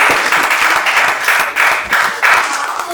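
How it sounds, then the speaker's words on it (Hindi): Dense, loud applause from an audience at an inter-office quiz on Constitution Day, a continuous roar of many hands clapping with no voices over it. "जोरदार तालियां आरबीएन के लिए"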